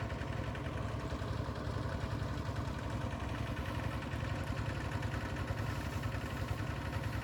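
A walk-behind tractor engine running steadily nearby in a rice field, a constant low chugging rumble with no change in pace and no voices.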